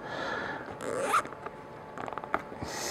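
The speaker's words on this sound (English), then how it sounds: "Get your cable tie, pull it nice and tight." A cable tie zipped tight on a Land Rover Discovery 1 seat during re-trimming, a quick ratcheting rasp followed by a couple of short clicks, close and clear with no talk.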